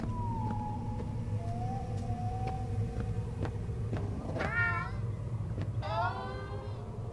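A cat meows in the zoo horror game Zoonomaly, with a few rising, wavering meows standing out near the end over a steady droning game background.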